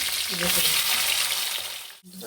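Hot oil sizzles and crackles steadily as eggplant fries in a pan, with a voice faintly under the hiss before a brief dip.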